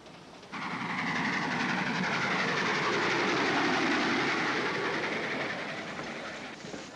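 A train rumbles steadily along the rails, a broad continuous roar that swells and then eases slightly, with no voices heard.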